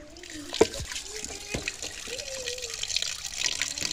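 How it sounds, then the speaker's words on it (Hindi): Water is poured into a cooking pot for mutton biryani in a home kitchen, a soft trickle and splash under a voice describing the step. "अब इसके अंदर पानी डालेगी"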